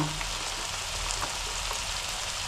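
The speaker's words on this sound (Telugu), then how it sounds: "నూనె పై తేలే వరకు వేగిందమ్మా" Small fish cooked as a curry fries in hot oil, giving a steady, close, broadband sizzle that holds at an even level without pause and with no voices.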